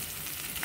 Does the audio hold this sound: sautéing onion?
yes